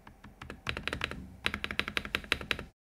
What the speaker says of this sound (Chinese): 空格有一点点杂音